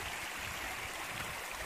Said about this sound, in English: It's another lovely source of water crossing the trail.